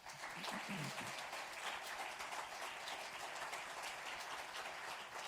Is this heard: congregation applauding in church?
yes